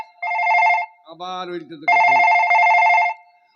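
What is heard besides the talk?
telephone ringing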